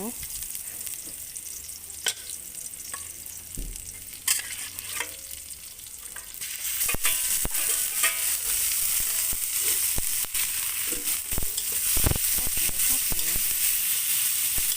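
Kale being stir-fried with pork: loud continuous sizzling, with frequent sharp scrapes and clanks of stirring in the pan, growing hotter and busier halfway through.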